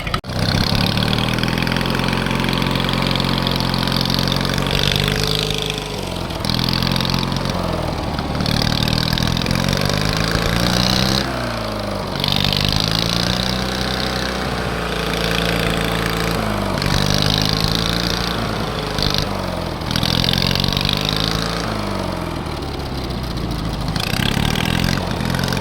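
MTD racing lawn tractor engine running close by, a loud, rough small-engine chug that revs up and drops back several times before settling.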